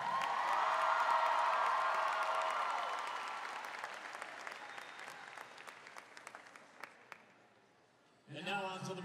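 An arena crowd at a winter guard competition applauds a high school scholarship winner, a loud broad wash of clapping and cheering that slowly fades to scattered claps, then speech over a PA begins.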